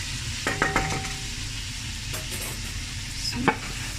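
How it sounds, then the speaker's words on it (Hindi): Chicken frying in a pan gives a steady low sizzle, with a few clinks and scrapes of a utensil stirring against the pan, near and moderately loud with no talking. "फ्रेंड्स हमारा जो चिकन है वो तकरीबन हमें इतना ही फ्राई करना है"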